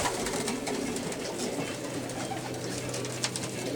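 Pigeons in a loft, trap area with birds feeding from a trough, cooing steadily at moderate distance over a continuous noisy background, with faint rustles and scattered chirps.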